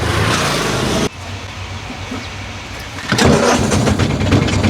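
A tuk-tuk's small engine cranks and catches, a loud rattling noise dropping briefly before the motor picks up into a steady, close idle.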